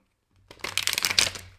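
Tarot cards are shuffled by hand in a quick close-up riffle, a short burst of crisp papery flutters that starts after a brief silence and builds over about a second.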